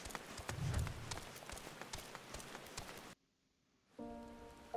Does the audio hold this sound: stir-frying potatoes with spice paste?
no